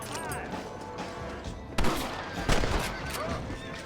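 Gunshots ring out in Red Dead Redemption, with two loud, sharp cracks about a second apart standing out over a steady bed of in-game ambience.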